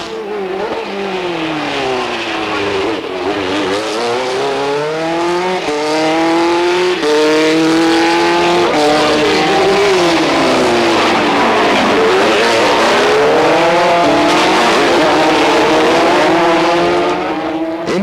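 Formula 3 race cars from the 1988 French championship scream loudly past, engines revving up and down in continuous waves while tires squeal, sustained and close throughout.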